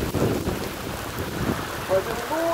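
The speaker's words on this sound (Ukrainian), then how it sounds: "А зараз такий пішов надзвичайний дощ." Heavy rain pours down in a steady, dense hiss outdoors, with low rumbling underneath and a brief high tonal sound near the end.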